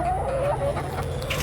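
Backyard hens in a coop cluck softly with a brief rising and falling call near the start, faint over a steady low hum of outdoor background noise.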